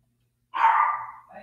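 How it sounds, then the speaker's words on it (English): Small chihuahuas let out one loud, sharp bark-like yap that trails off, followed by a softer second yelp, close by in an otherwise quiet room. "My dogs are so loud. I have chihuahuas."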